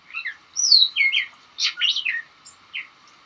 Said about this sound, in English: In the dark just before dawn, I hear a catbird.